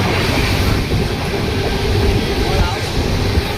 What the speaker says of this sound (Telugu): ఇదేమో నేను వెళ్ళాల్సిన ట్రైన్. ఆ ట్రైన్ అయితే వచ్చేసింది.